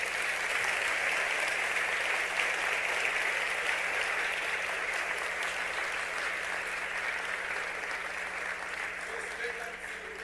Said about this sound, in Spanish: un fuerte aplauso a sus hermanos en el mundo entero